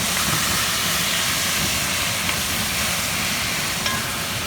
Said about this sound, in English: I'm using a wooden spoon to stir it around